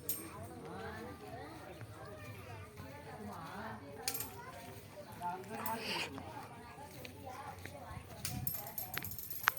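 Cow hooves clip-clop as a cow pulls a cart, the soft knocking buried under constant loud chatter and general outdoor bustle.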